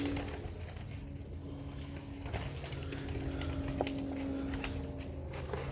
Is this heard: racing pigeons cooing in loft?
yes